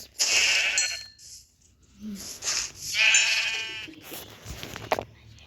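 Sheep bleating in a village: several loud, close, wavering bleats from more than one animal, separated by short pauses.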